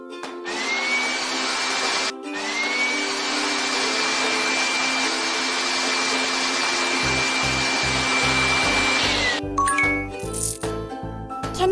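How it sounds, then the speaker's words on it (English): Vacuum cleaner running over the floor in a baby care video game, a steady loud whine held for several seconds, then cut off and followed by a few light chimes and tinkly clicks. "Let's vacuum the floor."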